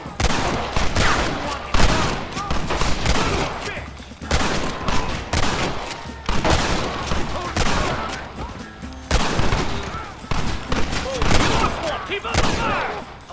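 Repeated bursts of rapid gunfire erupt during a gate assault in Red Dead Redemption, dense volleys of shots in several waves with short lulls between them, loud and close, with game voices shouting amid the shooting.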